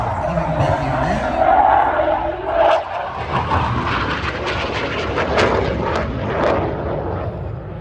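A BAE Hawk 127 lead-in fighter jet trainer of the Royal Australian Air Force flies at the RAAF Richmond airshow, giving a steady, broad jet roar with a rising surge midway that stays loud throughout.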